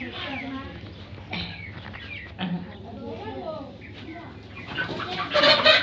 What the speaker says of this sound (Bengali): দেখো, মুরগির খাবার দিচ্ছি আমি